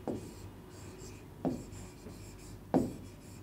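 Pen or chalk writing on a surface in a classroom lesson, three short scratchy strokes spaced about a second apart, close and fairly quiet over faint room noise.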